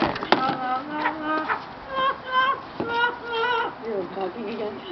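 Yaki, a pet talking bird, vocalizes in a warm-up, giving a string of short, tonal chirped syllables close by and fairly quiet, with a room hum underneath.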